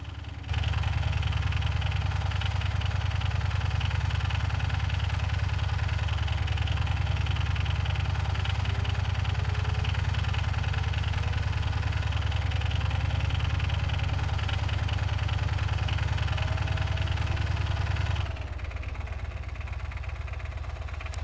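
A gas engine in the Gearblocks video game runs steadily at idle, a loud, even mechanical drone that holds for about eighteen seconds before dropping to a quieter, lower hum.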